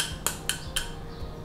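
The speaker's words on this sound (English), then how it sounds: "I'm gonna get a bowl, and I'm gonna sift my flour" Flour being sifted into a bowl for tempura batter gives three quick, crisp metallic taps about a quarter second apart, close by, then a quiet background.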